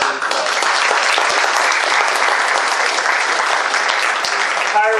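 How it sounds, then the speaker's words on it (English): A large crowd at an awards gathering honouring distinguished Goldbugs gives a sustained, loud round of applause, dense and even throughout with a few cheers near the end. "we do need to give them a round of applause"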